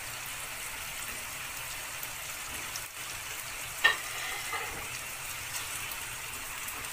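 Meat browning in a pan with parsley, coriander and celery being gently stirred: a soft, continuous sizzle with a faint scrape or clink partway through, quiet and without talk.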